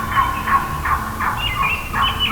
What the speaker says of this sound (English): Toms were gobbling.